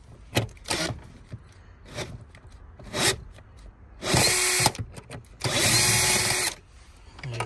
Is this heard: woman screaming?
no